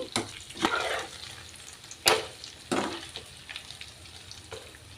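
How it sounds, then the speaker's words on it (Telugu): Chicken frying in a pan for a simple chicken fry, a soft continuous sizzle broken by several sharp scraping bursts as a spatula stirs the pieces, close and moderately quiet, no talking. "చికెన్ అయితే ఇలా చక్కగా ఫ్రై అవుతుంది ఇలా మధ్య మధ్యలో ఇలా తిప్పుకుంటూ ఫ్రై చేసుకున్నాం"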